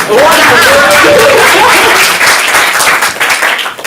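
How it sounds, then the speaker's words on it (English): A stand-up comedy showcase audience breaks into applause mixed with chuckles, a dense crowd roar that fills the first seconds and gradually thins, with a voice speaking over the start. "Applause for whoever said that"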